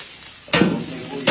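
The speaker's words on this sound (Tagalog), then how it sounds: "gigisa natin. Bawang sibuyas, mga idol" Garlic and onion drop into hot oil in a galvanized kawali outdoors, a sudden loud sizzle that swells, settles, then flares again as more is stirred in.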